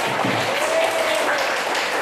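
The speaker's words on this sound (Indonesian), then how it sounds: "Tepuk tangan dong" Teachers in a training session applaud together, a brief burst of steady clapping in a room, with a faint voice briefly audible beneath it.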